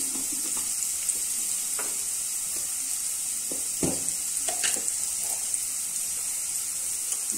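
Cabbage fries in a pan with a constant, close sizzle and occasional spoon scrapes and clacks scattered through it, no voices.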